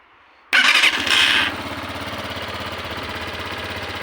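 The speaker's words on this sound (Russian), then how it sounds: "Сейчас заведу, покажу, как работу двигателя." A new Romet ADV 125 four-stroke motorcycle engine cranks and fires, revving briefly before settling into an even, close-up idle that continues steadily.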